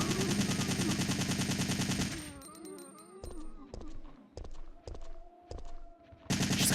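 Automatic assault rifle fire in a Resident Evil video game rattles in a loud rapid burst, then gives way to spaced single shots and game effects before another burst breaks out at the end.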